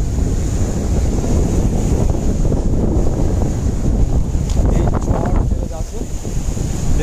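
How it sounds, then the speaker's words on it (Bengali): Rough sea after Cyclone Yaas, a loud, continuous roar of breaking waves mixed with heavy wind buffeting the microphone, steady throughout with no clear voices. "সমুদ্রের একটা ভীষণ আওয়াজ তোমরা আশা করি শুনতে পাচ্ছ তোমাদের কানে যাচ্ছে"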